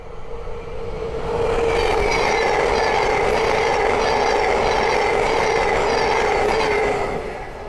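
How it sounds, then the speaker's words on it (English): A Thameslink Class 700 electric passenger train rushes past on the East Coast Main Line at Great Wymondley, a loud, steady roar of wheels and rails that swells in quickly, holds for several seconds, then eases slightly. "the next train to pass by is a Thames Link 700"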